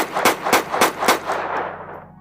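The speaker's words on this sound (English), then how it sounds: "You were weakly thinking when you heard gunshots." Four heavy gunshots fire in quick, even succession, booming and close, with a rumbling echo trailing off after the last.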